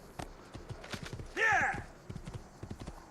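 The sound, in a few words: horse in video game Assassin's Creed 2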